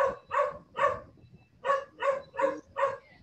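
A dog barks in a home during a live online math class, seven clear, fairly close barks in two bursts, three then four, with short pauses and no talk over them.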